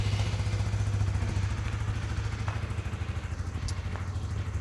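Honda CBR 150 motorcycle engine running steadily, a close throbbing idle with a rapid even pulse and mechanical clatter, no speech over it.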